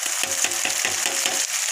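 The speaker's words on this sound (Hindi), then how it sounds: "इसको थोड़ा सा भून लीजिए।" Spices for paneer masala fry in a pan with a steady hiss, broken into quick regular pulses like stirring, close and moderately loud with no talking.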